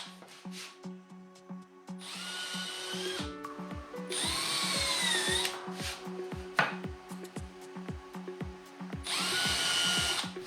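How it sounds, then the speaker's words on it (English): Power drill boring and countersinking screw holes in wooden boat supports, several distinct bursts of whining motor with rough cutting and clicking handling sounds between them, fairly close. "The screw locations are easily worked out with the outlines drawn in, drilled and countersunk"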